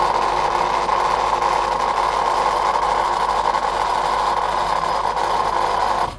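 A Hy-Gain Ham IV antenna rotator turning toward its park heading makes a loud, steady motor hum with a constant mechanical whine, running evenly for several seconds before cutting off abruptly.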